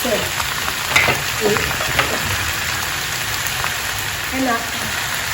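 Mixed vegetables stir-fry in a pan with a continuous loud sizzle and crackle, with occasional scrapes and clatter from stirring.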